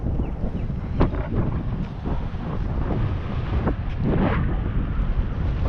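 Steady wind roars across the microphone at a fishing spot, a loud continuous low buffeting with a few brief gusty flares and no voices.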